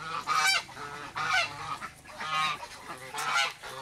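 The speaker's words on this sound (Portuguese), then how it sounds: "Olha só os marrecos, gente." A group of teal ducks by a makeshift pool quacks and honks loudly in repeated raspy bursts, close by, with no talking.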